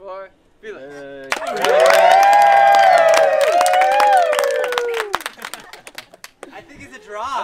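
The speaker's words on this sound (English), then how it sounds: "a massive round of applause for Felix" A loud crowd bursts into sustained applause, cheering and whoops for Felix. It swells quickly, holds strong for several seconds and then fades into scattered claps and voices.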